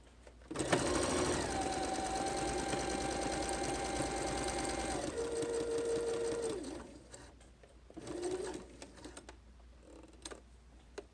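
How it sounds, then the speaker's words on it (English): A sewing machine stitches across a seam on a pleated fabric face mask, running in one long steady whir for several seconds, then shorter bursts and a stop, fairly quiet and close. "So I'm going to try to sew right over the top of that seam."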